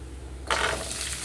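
Black pepper, with coriander seeds, dropped into hot oil for a green chutney: a soft, sudden sizzle bursts in after a quiet moment, then settles into a steady low frying hiss.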